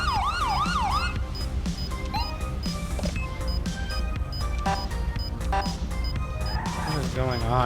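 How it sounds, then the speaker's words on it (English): A police car siren in the video game GTA V wails briefly at the start and then cuts out, leaving engine and street noise while someone talks over it, with a short siren chirp returning near the end. "my siren's just like stopping by itself"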